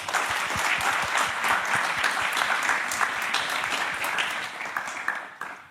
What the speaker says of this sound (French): Je pense que nous pouvons les applaudir.